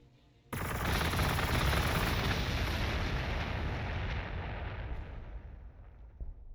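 T'au tanks firing in Warhammer 40,000: Gladius, a sudden loud barrage that turns into a dense roar of rumbling blasts and rattling fire, slowly fading over several seconds.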